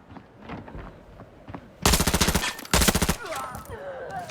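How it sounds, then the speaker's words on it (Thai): Gunfire in Arena Breakout, two loud close bursts of rapid automatic shots separated by a brief pause, with softer scattered shots and game noise before and after. "ผมยิงกระสุนอยู่"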